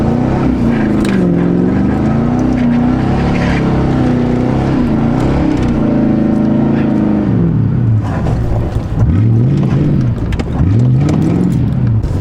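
A Ford Crown Victoria P71 police interceptor engine hums steadily while driving gently through snow in a snowstorm, a continuous loud drone with pitch rising and falling as the throttle changes, no talk.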